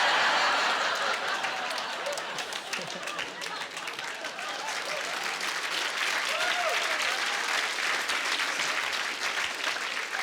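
Steady, dense applause from a large comedy show audience fills the whole stretch, loud and even, with no voices rising above the clapping.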